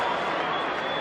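Steady roar of a large football crowd at St Kilda v Footscray in 1994, late in the third quarter, a continuous wash of cheering heard from a distance at moderate level.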